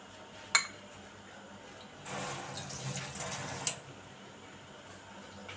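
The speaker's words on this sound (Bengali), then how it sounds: "এলাচ, দারচিনি এবং লং আমি ধুয়ে নেব।" Tap water runs briefly over whole cardamom, cinnamon and cloves for a beef and bottle gourd curry, a short soft gush in the middle bracketed by two sharp clinks of metal utensils, fairly quiet and close.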